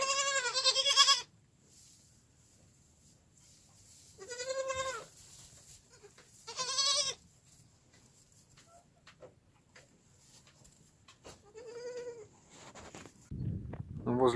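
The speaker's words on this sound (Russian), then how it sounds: "Дети козлячьи." Goat kids bleat inside a sheltered barn: four close, nasal bleats come in separate bursts spaced a few seconds apart, with quiet barn shuffling between them.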